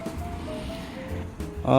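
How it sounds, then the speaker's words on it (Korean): A countryside stream flows in a steady, close, broadband rush, with a brief tonal hum rising at the very end. "시골 개울이 참 정답네요."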